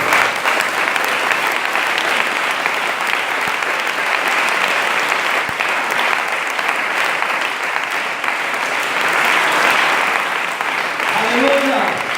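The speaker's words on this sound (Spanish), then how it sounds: "Le dan un aplauso al Señor un momento." A church congregation applauds steadily and loudly for about twelve seconds, a dense continuous wash of clapping with a brief voice near the end.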